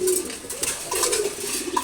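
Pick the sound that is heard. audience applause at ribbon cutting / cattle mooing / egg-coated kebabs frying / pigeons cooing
pigeons cooing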